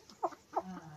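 Two short clucking calls from chickens with a rooster on a farm, close and fairly clear, followed by a low, steady hum.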